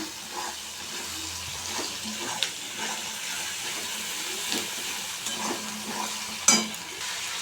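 Potatoes and papaya land in a pan of frying onion and tomato, giving a steady sizzle with scattered stirring scrapes and a sharp clatter near the end, moderately close with no talking.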